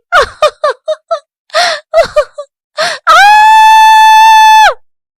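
A woman in an animated Hindi moral story gives a long, loud, sustained scream of joy after a run of short excited gasps and vocal bursts.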